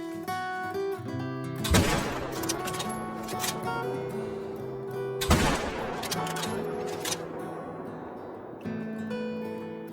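Two loud, sharp Mosin rifle shots ring out a few seconds apart over steady game music, each followed by a short decaying echo.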